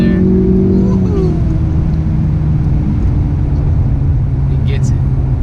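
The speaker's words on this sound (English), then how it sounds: "see it downshifted one more time right there" Tuned 2018 Ford Mustang EcoBoost with a four-cylinder engine and 10-speed automatic accelerates hard, its loud engine drone dropping in pitch as it downshifts once, then holding a steady roar.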